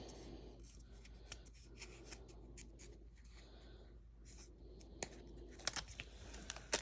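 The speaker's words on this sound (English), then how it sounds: "And then I'm going to peel off this back part, the sticker." Sticker backing being peeled off during a Day of the Dead paper craft with acetate, a close, steady dry rustling and scraping with sharper crackles and snaps near the end.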